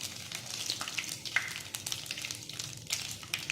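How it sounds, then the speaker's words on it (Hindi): Whole red chillies, five or six, and a teaspoon of cumin seeds hit hot tadka oil for Okhai Memon daal, setting off a steady crackling sizzle with sharp pops scattered throughout, close and moderately loud. "सबसे पहले हम इसमें साबुत लाल मिर्चें 5-6 डालेंगे और ये ज़ीरा डालेंगे"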